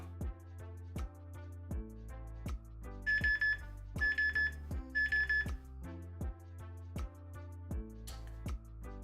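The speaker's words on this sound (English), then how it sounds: "I've got my daughter's Dexcom alarm going off on our phone here" A Dexcom glucose monitor alarm sounds on a phone in three short bursts of high, bright repeated beeps, set against regular ticking or tapping that runs through the whole stretch.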